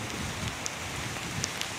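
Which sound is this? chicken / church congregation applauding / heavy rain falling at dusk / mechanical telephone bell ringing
heavy rain falling at dusk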